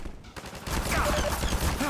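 Rapid gunfire in the Half-Life 2 co-op game, a dense, fairly faint burst of shots that sets in after a short lull and runs steadily to the end.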